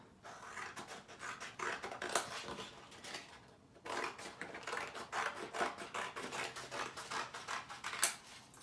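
Scissors cutting a traced envelope outline out of a paper folder: a long run of quick, rhythmic snips and crisp paper rustles, close and fairly quiet, with a brief pause midway.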